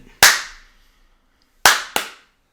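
Three sharp, close hand claps ring out alone in a quiet room: one single clap, a pause, then two in quick succession.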